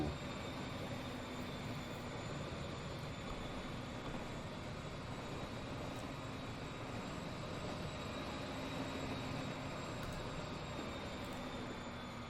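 An intercity train pulls out of a station in the railway simulation game Transport Fever 2, a low steady rumbling drone with faint tonal whine that holds at an even level for the whole stretch, no voices over it.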